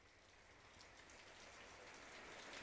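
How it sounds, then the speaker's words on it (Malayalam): Heavy rain falling steadily, a soft continuous hiss heard at a distance that builds slightly toward the end, with no voices. "ഇവിടെ നല്ല മഴയാണ്"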